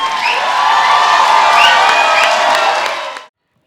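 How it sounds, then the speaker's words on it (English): A school annual day audience in JP Nagar bursts into loud, sustained applause and cheering, with whoops and children's shouts rising over dense clapping for about three seconds before it cuts off abruptly. "A big round of applause please."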